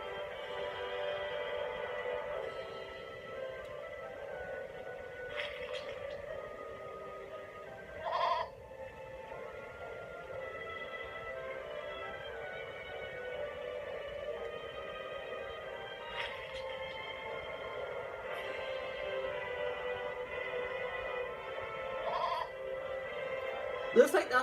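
Goats bleating in the video game Eternal Sonata, a few faint short bleats scattered over steady game background music.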